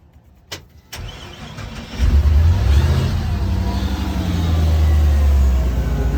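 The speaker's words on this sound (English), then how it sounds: "So now we're going to turn the boat on." A 2019 Nautique G25 boat engine turns over and catches, then settles into a steady low rumble that continues loudly after a couple of sharp clicks at the start.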